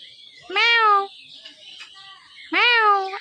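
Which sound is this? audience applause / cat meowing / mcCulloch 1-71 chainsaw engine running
cat meowing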